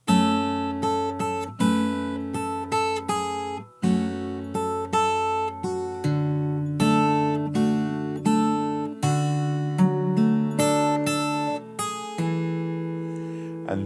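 Fingerstyle guitar plays the chorus of a song, plucked melody notes ringing over a steady bass line, close and clear, with no voices.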